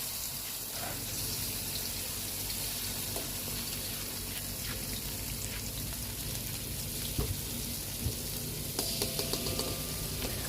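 Finely ground chili sambal for a tempe, anchovy and peanut relish goes into hot oil, giving a steady hissing sizzle throughout with a few light stirring clinks near the end.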